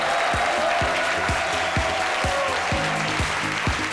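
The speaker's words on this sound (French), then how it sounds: "On en parle avec Madame Ouattara Salimata, que je vous demande d'applaudir." A studio audience on a French-language midday TV talk show applauds a guest, producing a steady, loud wash of clapping for about four seconds, with a rhythmic low thump of music pulsing underneath.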